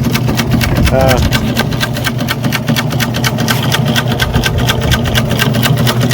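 A homemade gold motion table for recovering fine flour gold from beach sand, running with a rapid, rhythmic mechanical shaking and motor drone, loud and close, while people talk over it.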